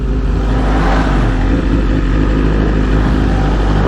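A BMW S1000RR motorcycle rides off with a loud, steady exhaust note, a continuous close engine roar that holds even throughout with no talking over it.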